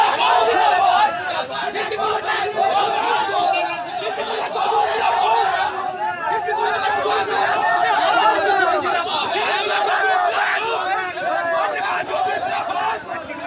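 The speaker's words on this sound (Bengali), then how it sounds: "মন্ত্রীকে গো ব্যাক স্লোগান তৃণমূলের ব্লক সভাপতি অনুগামীদের।" A crowd of Trinamool block president supporters chants go-back slogans at a minister, loud and continuous with overlapping shouting voices throughout.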